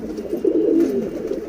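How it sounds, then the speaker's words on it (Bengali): Pigeons of a tournament racing line coo softly in a low, rolling murmur close by, with no voices. "কবুতরগুলো"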